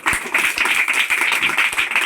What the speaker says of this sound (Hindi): चलो बिल्कुल ताली बजा दो